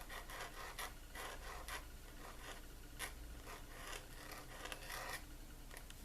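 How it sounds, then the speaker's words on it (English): Gillot 303 pointed pen nib scratching across paper in pointed-pen calligraphy, a steady close raspy scratch with repeated stroke bursts running throughout, no talk. "Some nibs are scratchier than others, and some nibs make more noise than others."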